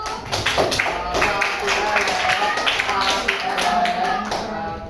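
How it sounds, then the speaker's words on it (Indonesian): A classroom of students applauds a group of classmates in a steady, dense patter of many clapping hands, with some voices mixed in under the clapping. "Beri tepuk tangan dulu sama kelompok satu."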